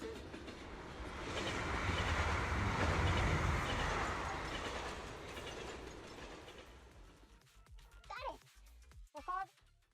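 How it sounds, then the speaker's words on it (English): A video game train rumbles past, swelling to a loud roar then fading, followed by brief voices near the end. "The train will soon pass."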